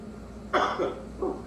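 A single rough cough bursts out, followed by two smaller throat-clearing coughs in quick succession, close and moderately loud.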